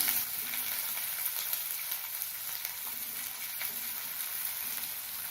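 A steady, dense sizzle of finely chopped onions frying in hot oil, continuous and moderately loud, with faint occasional crackles.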